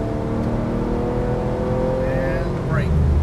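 A 2012 Porsche 991 Carrera S accelerates on a track, engine note climbing steadily in a loud, close, continuous drone with layered harmonics, a voice briefly under it.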